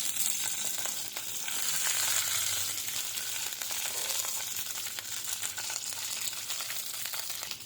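Green chillies fry in hot oil in a pan, giving a steady close sizzle and crackle that continues alone with no talking.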